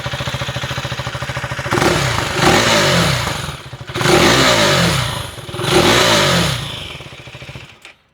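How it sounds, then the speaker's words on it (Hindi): A KTM Adventure 390 R single-cylinder engine with an underbelly exhaust idles with a rapid thump, then revs sharply three times, rising and falling each time, before cutting off. The sound is loud and close. "सो अंडरबेली एग्जॉस्ट कुछ इसका इस तरीके से साउंड करता है।"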